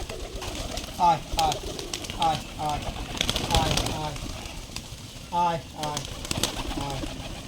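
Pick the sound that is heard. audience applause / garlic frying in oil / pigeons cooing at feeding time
pigeons cooing at feeding time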